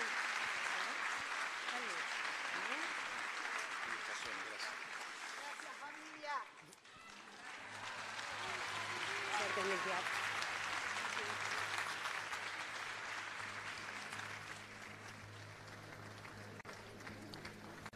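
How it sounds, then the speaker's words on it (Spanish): Standing ovation from a full theatre audience at the Sodre, sustained dense applause with a brief dip before swelling again, and a voice talking quietly over it. "Una ovación de pie a sala llena"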